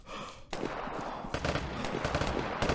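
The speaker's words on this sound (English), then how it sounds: "Wait, are they shooting someone?" Gunfire in the video game Vigor, sharp repeated shots in bursts over a continuous game background, fairly distant and moderately loud.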